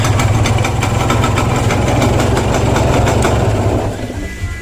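A small carbureted engine with a stripped carburetor jet runs loudly and steadily close by, its throttle easing off near the end as the idle drops.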